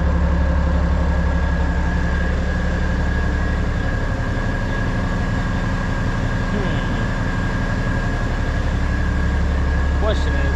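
A farm truck's engine runs at a steady idle just after being started before harvest, a constant low rumble with a faint high whine that stays loud and unchanging throughout.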